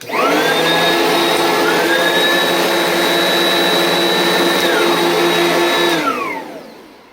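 Oreck XL Commercial and Oreck Elevate Control upright vacuums run together, a loud steady motor whine with layered tones that rises at startup, holds evenly, then winds down near the end.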